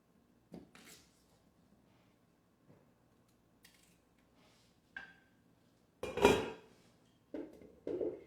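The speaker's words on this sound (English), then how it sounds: "We want to cube our potatoes so that they're not real small, but they're bite-sized." A knife cubes potatoes on a board, producing sparse, irregular close chops and taps with quiet gaps between, the last few strikes louder and heavier.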